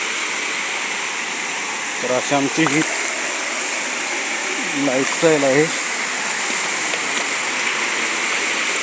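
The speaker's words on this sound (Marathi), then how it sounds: "पाणी येतं इथं" A stream flowing through a farm field after rain, heard as a steady broadband rush of water throughout, with someone speaking briefly over it twice.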